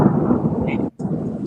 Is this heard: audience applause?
no